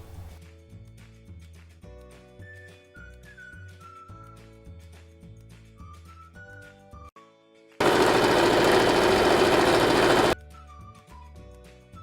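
A sewing machine stitches the hem of a Punjabi chakvi salwar in one loud, rapid burst of a few seconds, set between stretches of background music.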